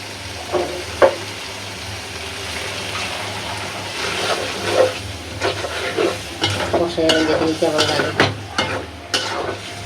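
Small kachki fish frying in hot oil in a pan while being stirred, a steady sizzle broken by scraping and clanking stirs that grow busier toward the end.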